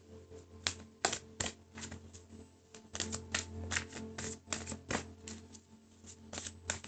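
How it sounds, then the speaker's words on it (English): Tarot cards from an Animal Tarot deck are shuffled and pulled, producing crisp, close riffling snaps and flicks in irregular bursts over a low steady hum, with no one talking. "Now I'm going to pull some more clarifier cards for you"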